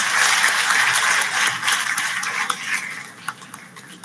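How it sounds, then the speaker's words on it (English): Applause from a conference audience at an international computing sciences conference, a steady patter of clapping that starts loud and thins out over a few seconds, with scattered claps trailing off. "Ladies and gentlemen, please give ma'am a huge round of applause"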